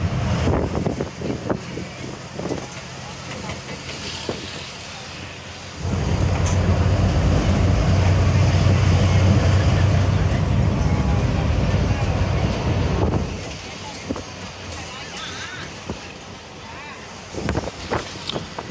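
A TNSTC BS6 bus cruising at about 80 km/h on the road, its engine and road noise swelling into a loud steady roar in the middle. Someone talks over it at the start and end.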